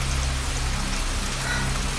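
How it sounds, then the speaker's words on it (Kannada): Heavy rain falls at night as a dense, steady hiss that fills the whole moment at an even, fairly loud level, with no voices over it. "ಭಾರೀ ಮಳೆ"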